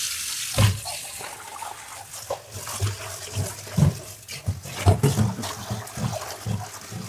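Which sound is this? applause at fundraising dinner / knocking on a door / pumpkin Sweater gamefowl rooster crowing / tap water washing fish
tap water washing fish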